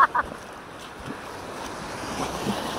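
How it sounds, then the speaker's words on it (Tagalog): Strong sea waves and a rushing current roar steadily with heavy wind buffeting the microphone, a brief splash or knock at the very start and no voices. "Lakas ang agos sound."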